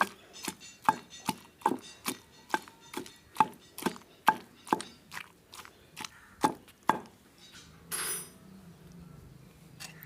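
Chutney being pounded in a stone mortar, with a series of sharp, evenly spaced knocks about twice a second, close and crisp, then a brief scraping rustle near the end; no voices.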